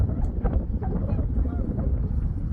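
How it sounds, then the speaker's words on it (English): Low, blustery wind buffeting the microphone in continuous gusts on a cold 37-degree day with melting snow, with faint muffled sounds underneath. "It's windy, really windy."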